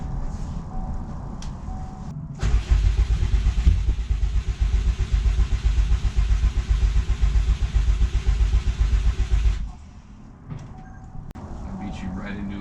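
A barn-find Subaru Impreza 2.5 RS engine cranks over continuously in a loud, rhythmic pulsing churn for about seven seconds while people talk around it.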